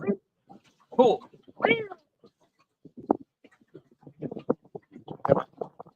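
A cat meows several times close by, in short drawn-out calls, with quiet gaps and some soft background noise between them.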